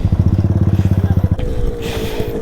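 Motorcycle engine revving hard through its exhaust during wheelie practice, a loud rapid pulsing throb that drops to a steadier idle with a rising whine, close by.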